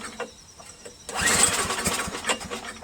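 A Craftsman push dual-stage snow blower engine on full choke and high throttle is pulled and sputters into a rough, uneven run, a loud close mechanical roar starting after a second of quieter handling noise.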